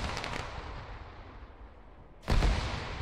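A grenade blast in a capture-the-flag shooter game during a competitive tournament match: a sharp, loud explosive burst near the end, after a stretch of low rumbling and earlier smaller pops.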